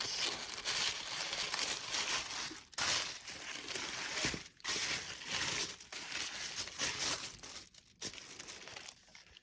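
Paper wrapping crinkles and tears as a planner journal package is opened up close, a busy run of rustling and crumpling that stops briefly at a few moments before continuing, with no voices.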